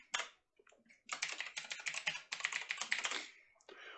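Typing of a terminal command on a computer keyboard, rapid close key clicks in two dense bursts separated by a short pause, alone with no talk.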